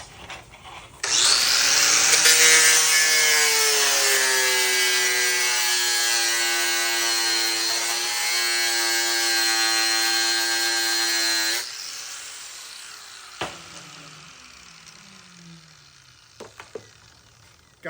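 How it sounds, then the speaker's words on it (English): Power tool with an abrasive disc grinding the edges off a corner, a loud steady high-pitched whine lasting about ten seconds that rises slightly, then cuts off, followed by faint clanks. "let's grind some edges on this"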